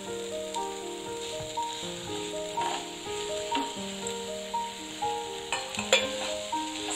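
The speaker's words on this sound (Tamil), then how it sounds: "சேர்த்துட்டு இதோட பச்சை வாசனை போற வரைக்கும் நம்ம நல்லா வதக்கணும்" Mint and coriander leaves sautéed in a pan for parotta salna, with a soft, steady sizzle and occasional stirring clicks under sustained background music.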